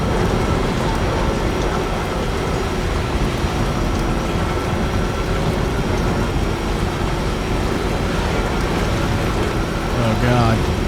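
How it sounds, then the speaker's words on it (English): Steady, dense rainfall in the video game Death Stranding 2, a continuous broadband wash that stays loud and even throughout, with a voice reacting briefly over it. "here comes the rain"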